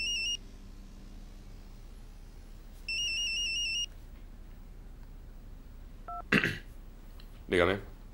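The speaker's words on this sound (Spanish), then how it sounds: "Chris, tu móvil." Mobile phone ringing in an electronic trill pattern, two bursts a few seconds apart, fairly close, followed by brief voices.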